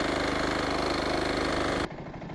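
A Sharp Garuda mini weeder engine runs steadily and loudly while tilling soil about four inches deep, a continuous chugging drone that drops off abruptly near the end to a quieter, rougher idle.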